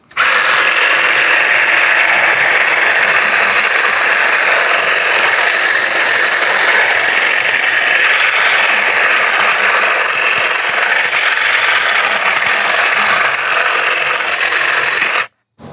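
A Kärcher HGE 36-60 cordless hedge trimmer with a 36 V removable battery runs steadily, its loud, bright buzzing and rasping blade chatter sustained alone for about fifteen seconds before cutting off.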